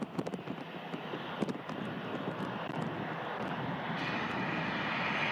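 An Etihad airliner moving on the ground at Manchester Airport in strong winds, a distant steady jet engine rumble with gusty wind buffeting the microphone and a few sharp clicks early on.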